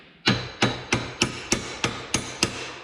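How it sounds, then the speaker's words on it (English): A hammer gives eight quick, evenly spaced metallic taps, seating a part during reaming work on a planter, each strike crisp and close with a short ringing decay. "Sometimes you can take a hammer and just give it a peck and it'll go right on in."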